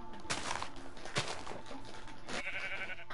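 A baby sheep in Minecraft gives a few short, wavering bleats at close range, spaced out over a soft steady background.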